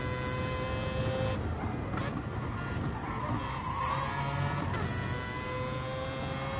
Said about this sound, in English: It's a type of engine you'd hear out of Formula 1 2002 on the PS2